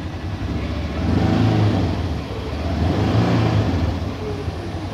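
A 2018 Polaris Ranger 1000 UTV engine runs close by, a loud steady mid-pitched rumble that swells twice as it revs slightly, then settles back toward idle, with no speech.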